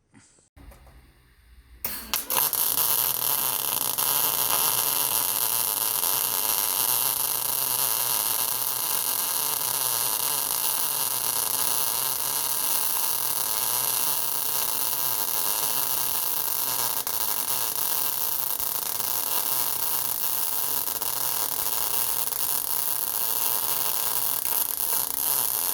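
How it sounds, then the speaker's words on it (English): A Sefaspe Mig 205 DS pulsed MIG welder laying a bead with shielding gas at 15 to 20 CFM, on 220 V. After a short quiet start, a loud, steady, close crackling hiss runs unbroken to the end. "So let's do some welding."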